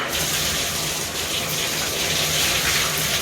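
Running water rinsing a bathroom surface such as a tub or sink, a steady broadband gush that stays loud and continuous throughout, alone without speech.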